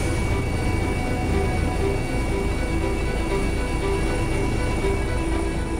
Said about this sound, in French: L'hélicoptère fait route vers l'hôpital Édouard Herriot.